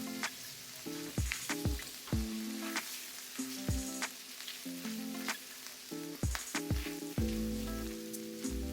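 Garlic sautés in a pan for creamy Tuscan chicken, giving a continuous sizzle and crackle with scattered sharp ticks, set against tonal background sounds that resemble music.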